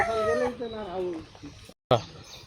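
Chickens and roosters on a farmhouse plot clucking and crowing nearby, several calls in quick succession with a short gap and a loud burst near the end.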